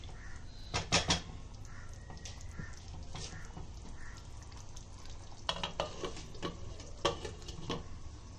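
Chicken and petha cook in a pan over a low gas flame, a faint background sizzle broken by sharp spoon scrapes and clatters against the pan in scattered bursts.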